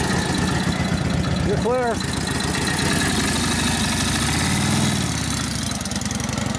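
Flathead 45ci engine of a 1942 Harley-Davidson WLA runs steadily in gear, a close, loud low-pitched chugging throughout, with a brief voice near the start and more talk partway through.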